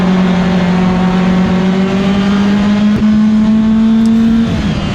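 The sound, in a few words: race car engine at River City Speedway race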